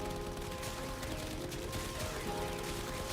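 Gunfire in the Warframe shooter game, a dense rapid stream of shots hitting enemies' bodies, steady and fairly quiet throughout without talk.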